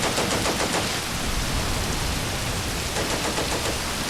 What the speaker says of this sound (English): I love seeing that Vickers firing